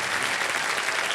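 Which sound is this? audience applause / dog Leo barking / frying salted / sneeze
audience applause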